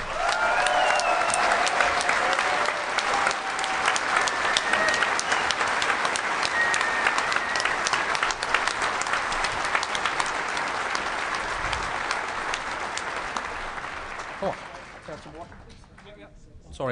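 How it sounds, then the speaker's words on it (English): A large hacker-conference crowd at DEF CON 17's closing ceremonies claps and cheers loudly and continuously, with scattered whoops, before the applause thins out near the end. "So I want a freaking big hand of applause for Doug Popper."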